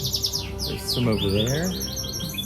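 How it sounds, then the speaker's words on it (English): Birds chirp and tweet in quick high bursts over an echoing indoor hum in Mykonos, Greece, with a voice speaking briefly in the middle. "those are real bird sounds from the birds"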